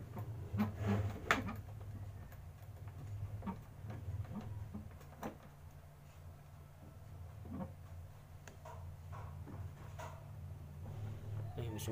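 An electric fan motor hums steadily while intermittent scraping and clicking sounds rub against it, irregular and close by.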